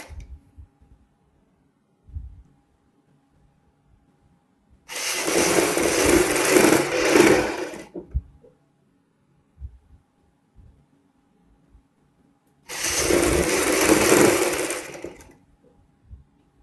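A sewing machine stitches a folded jacket hem in two separate runs of steady whirring, each lasting about three seconds, with quiet pauses between them and a few soft handling knocks.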